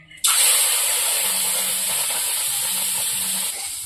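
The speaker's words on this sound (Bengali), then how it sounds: "এবার চিংড়ি মাছগুলো ভেজে নেব।" Prawns dropped into hot oil in a pan, a loud broadband sizzle bursting in suddenly and holding steady as one continuous hiss for several seconds.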